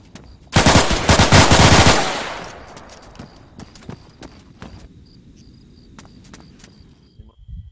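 Machine gun fire in the video game ARMA 3, a loud rapid burst of about a second and a half followed by scattered distant shots and a high steady tone.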